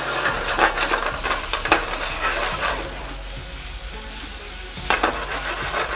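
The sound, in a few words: strawberries with sugar and mint sautéing in a hot pan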